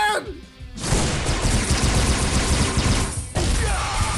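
Sustained rapid gunfire in the mobile shooter Gun Glory: Anarchy, loud and dense for several seconds with a brief break near the end before bursts resume, no voice over it.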